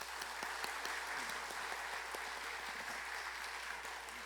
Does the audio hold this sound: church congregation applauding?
yes